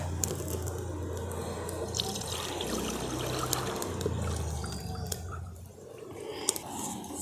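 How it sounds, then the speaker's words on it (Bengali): One litre of milk pours into a pan set on a lit stove, a soft steady trickling stream heard close but fairly quiet, with a faint background hum and no speech. "কড়াটা বসিয়ে দিচ্ছি এখানে আমি দিয়ে নিয়েছি এক লিটার দুধ"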